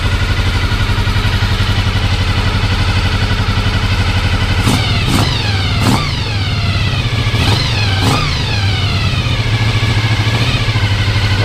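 A Honda VFR 750 motorcycle engine idles steadily with the throttle disconnected. It is blipped by hand at the carburettor, giving several quick, sharp revs midway through, all loud and close with no speech.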